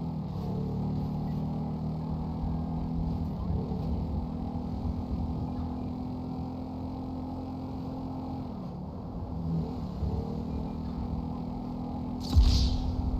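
A steady motorboat engine drones in a video game, holding an even pitch with slight speed changes, ending with a sharp splash-like burst near the close.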